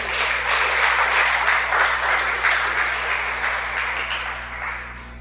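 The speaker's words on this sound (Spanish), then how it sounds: "Dale un aplauso más" A congregation at a Shabbat service breaks into sustained applause, a dense, fairly loud crowd clapping that runs for several seconds and then gradually fades.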